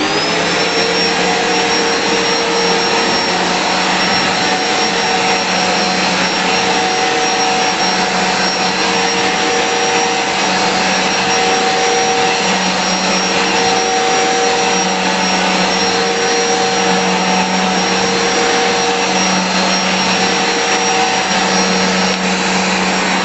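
A Bissell StainPro6 carpet cleaner runs continuously at a loud, steady roar with a high whine, close by, with no talking.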